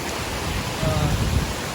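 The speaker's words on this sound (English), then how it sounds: "just wanted to share a view of this pretty little waterfall." A pretty little waterfall along the Appalachian Trail near the Winhall River gives a steady, broadband rush of falling water, fairly close and continuous with no voices.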